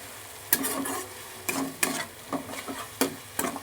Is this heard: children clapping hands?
no